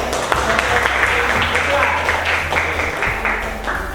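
A room full of people claps together in a burst of applause, with voices mixed in underneath.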